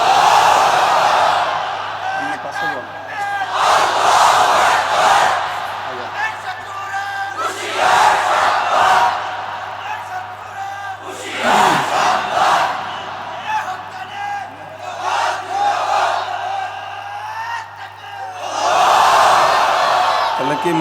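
At a Bangla religious waz gathering, a large crowd roars back in unison several times as a leader calls out, the loud massed voices swelling and falling in repeated waves.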